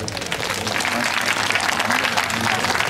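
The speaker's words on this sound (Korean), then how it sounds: "큰 박수로 맞이해 주십시오." An outdoor crowd at a lakeside cherry blossom festival concert applauds to welcome a district symphony orchestra, a loud continuous wash of clapping with crowd murmur throughout.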